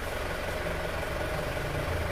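A cold Isuzu Panther diesel engine idles with a steady, even low rumble and faint knocking texture, close and continuous with no talk.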